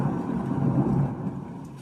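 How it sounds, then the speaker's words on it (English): Thunder used as a sound effect within a music track, a low rolling rumble that swells and fades over a couple of seconds, heard alone without talk. "A little bit of thunder."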